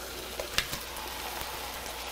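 Beef bowl meat with its juice and fat hits a frying pan alongside cooked eggs and sizzles with a steady, close crackle, marked by a few sharp pops.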